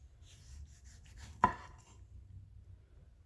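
A knife dicing a tomato on a cutting board gives one sharp, close chopping knock against the board, otherwise quiet with faint background.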